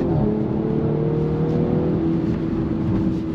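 A 400-horsepower Audi S5 engine revs hard and accelerates, a loud continuous roar with rising tone close by.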